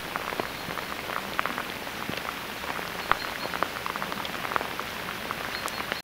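Steady morning rain falls on a path in Germany, a dense, even patter of drops at constant loudness for the whole stretch, with no voices over it.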